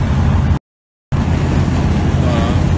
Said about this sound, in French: avec le vent là dans la voiture, c'est un peu bruyant